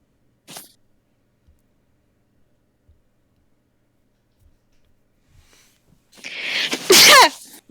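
A single loud sneeze bursts out close to the microphone near the end, after a long quiet stretch broken only by a faint click or two, heard during an online tabletop game session.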